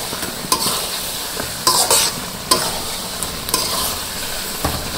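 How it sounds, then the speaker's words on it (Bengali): A spoon scrapes and stirs fried spice mix through thick mango pickle in a pan, with repeated clinks against the metal over a soft sizzle. "ভাজা মশলাটা দিয়ে ভালো করে মিশিয়ে নিই"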